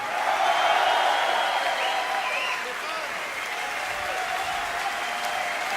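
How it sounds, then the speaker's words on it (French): Sustained applause from a live concert audience at La Cigale, a broad steady wash of clapping and crowd noise that fades slightly midway and carries on evenly to the end. "Un applaudissement."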